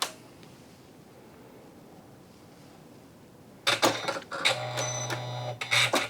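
A Janome Skyline S9 electronic sewing machine switches on after a quiet stretch, with close mechanical clicks and then a steady motor whir while winding a bobbin. The whir is broken by short pauses, and no one talks.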